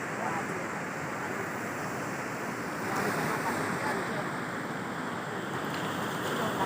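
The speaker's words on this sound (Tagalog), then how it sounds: "Ang lakas ng alon." Strong ocean surf rolls onto a beach as a broad, constant wash of noise. The swells rise gently, wind buffets the microphone, and the whole sound stays fairly distant and soft.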